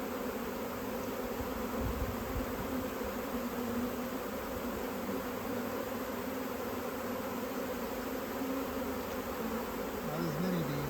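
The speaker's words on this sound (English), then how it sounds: "Not as many bees in the air." A dense, steady drone of a honey bee swarm buzzing together, continuous and close, with no voices.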